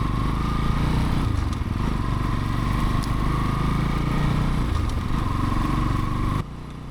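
A motorcycle rides over dirt terrain on a forest trail in Aluvamkudi forest: a close, steady engine drone holds throughout, then drops in level just before the end.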